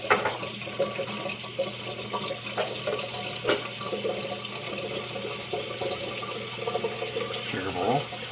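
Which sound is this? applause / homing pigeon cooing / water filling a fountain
water filling a fountain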